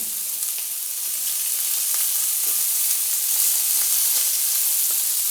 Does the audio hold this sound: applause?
no